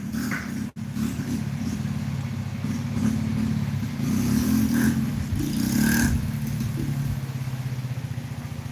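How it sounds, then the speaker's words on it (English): A motorbike nearby passes and revs, its mid-pitched engine droning steadily with a couple of rising surges in the middle before settling back, loud and close. "Oh, that motorbike."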